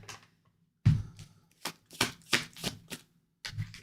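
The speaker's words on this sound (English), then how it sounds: "the cards don't even want to shuffle" Tarot cards riffled and handled during a reading, giving a series of short, dry papery bursts with brief gaps between them, close and fairly quiet, with no talk.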